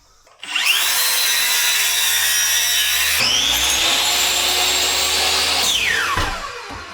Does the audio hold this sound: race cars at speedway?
no